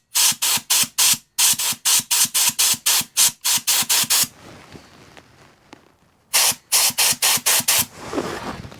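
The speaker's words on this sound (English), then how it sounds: "I'm going to get the air compressor and just blow" An air compressor nozzle blows into a vintage 1930s Dennis lawn mower in loud, sharp hissing bursts, pulsing in rapid even rhythm with brief gaps, then a quieter stretch before another burst series.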